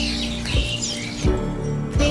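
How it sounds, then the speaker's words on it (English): Wild birds at a crowded Indonesian bird market give repeated chirps and squawks amid a dense, loud background of market noise and other birds. "It's a very rare wild bird."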